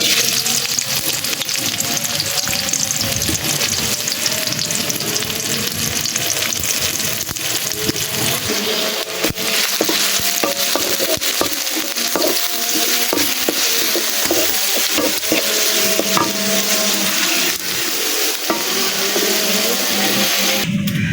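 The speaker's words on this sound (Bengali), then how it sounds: "তো তেলটা গরম হয়ে গেছে আমি এখন পেঁয়াজ আর রসুন কুচিগুলো দিয়ে দিব" Chopped onion and garlic fry in hot oil in a pan over a village clay stove, giving a steady, loud sizzle with stirring scrapes that runs without a break.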